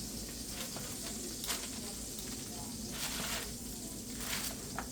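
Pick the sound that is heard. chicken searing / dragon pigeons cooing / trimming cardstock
chicken searing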